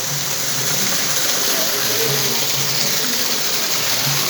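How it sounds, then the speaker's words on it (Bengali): Heavy, persistent rain falling in Shailkupa Kabilpur after two days of downpour: a dense, loud, unbroken hiss and rush of water throughout, with no clear talk. "আজ দুদিন ধরে একভাবে বৃষ্টি চলছে"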